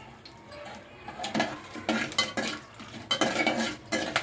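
A spoon stirs cashew nuts roasting in a pan for coconut rice, scraping and clattering in repeated quick strokes that grow busier toward the end, close and alone with no talk.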